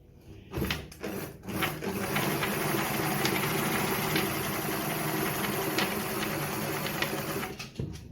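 A Jones model 461 sewing machine stitches at a steady fast rhythm, close and fairly loud, starting with a few clicks and running continuously before slowing near the end.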